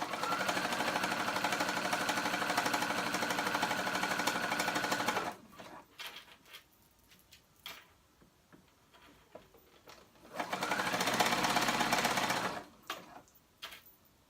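A sewing machine stitches fabric in two bursts, a long steady whirring run, a pause filled with faint handling clicks, then a shorter second run at the same pace, heard close with no talk.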